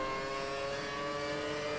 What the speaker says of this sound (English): I'm braking down into the penultimate corner. There's a lot of cars have pitted ahead.